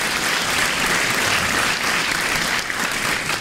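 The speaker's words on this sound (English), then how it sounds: "a round of applause" An audience applauding steadily at a school winter concert, a dense wash of clapping that holds at an even, loud level throughout.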